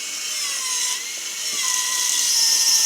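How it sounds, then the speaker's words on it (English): An angle grinder cuts into a metal bed frame extender during a van conversion, a continuous high-pitched whine close up whose pitch dips slightly as it bites and then climbs again, steady and loud, with no talking. "We're gonna grind this off and we'll get it built out."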